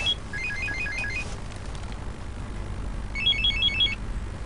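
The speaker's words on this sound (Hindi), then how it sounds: "सुबह सुबह किसका फोन आ गया?" An electronic phone ringtone plays a quick trilling burst of beeps, pauses, then repeats a second burst, fairly faint against a quiet room.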